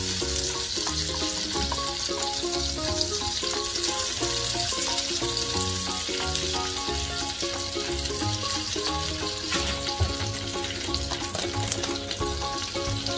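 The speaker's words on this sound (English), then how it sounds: "I'm going to add in a tablespoon of butter. Mix it in with the sugar." A tablespoon of butter stirred into melted sugar in a pan for butterscotch cake gives a continuous, even sizzle and bubbling close up, running steadily throughout with music playing underneath.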